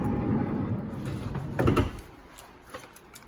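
Sliding door of a 1999–2004 second-generation Honda Odyssey minivan rolling open, a rumbling mechanical slide with a louder clunk partway through, then fading, with no talk.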